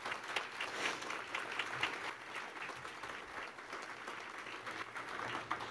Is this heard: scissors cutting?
no